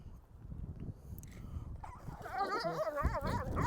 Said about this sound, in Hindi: यहाँ भी कुत्ते खाने के लिए लड़ते हैं